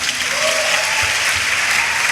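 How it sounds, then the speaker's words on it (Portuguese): An audience at a youth church service claps steadily and fairly loudly, a dense continuous wash of applause with no break and no clear voices above it. "Vamos aplaudir essa turma, vamos lá?"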